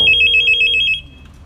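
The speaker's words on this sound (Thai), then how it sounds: "เดี๋ยวลองโทรเข้าดูครับ มีไฟสถานะกระดิ่งเรียกเข้า" A REACH-DT1000 analog home telephone rings for an incoming call, giving one loud, rapid electronic trill burst of about a second that then stops, heard alone with no talking.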